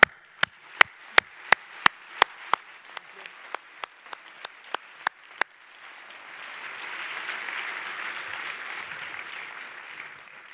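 At a PhD graduation ceremony, a series of sharp single claps rings out one by one, then swells into a broad wash of steady applause from a crowd.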